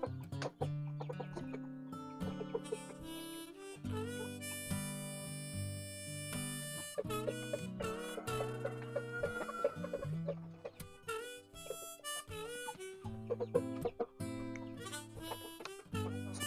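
Free-range village hens cluck and chatter in repeated short bursts, close by in a pen, over a steady backdrop of music.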